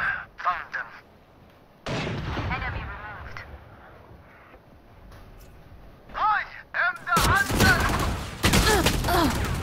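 In the Valorant video game, the Marshall sniper rifle fires loud, sharp shots amid other in-game gunfire, with the bursts growing denser toward the end. Voices are heard between the shots.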